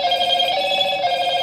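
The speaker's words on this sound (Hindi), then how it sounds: "भाई आवाज सच में बहुत तेज है इस फोन की" A Moto Edge 40 Neo smartphone plays a loud electronic ringtone, a steady trilling tone that pulses without pause for the whole moment, heard alone and close.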